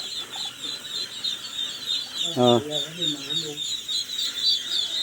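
Sultan ducks on a poultry farm give a short burst of nasal calls mid-clip, over a constant high chirping in the background; a person briefly exclaims.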